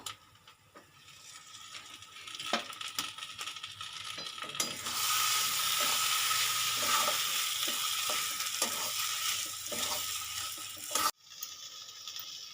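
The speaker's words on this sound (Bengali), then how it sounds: "আদা পেস্ট জিরে পেস্ট এবার এটা আমি সুন্দর করে নাড়ি চাড়িয়ে নেবো" Ginger paste and cumin paste sizzle loudly in a hot pan while being stirred, a steady frying hiss with scattered scrapes and clinks of the spoon against the pan; no one talks.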